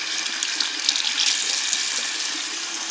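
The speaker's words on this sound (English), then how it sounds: "We're going to run some water over it." Tap water pours steadily over a cheap action camera, a continuous close hiss and splash that holds level throughout with no voices.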